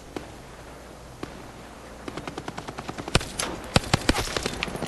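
HADES automatic gun in Call of Duty Black Ops 4 Blackout, firing a few spaced shots and then a rapid burst of bright, crackling rounds at moderate distance.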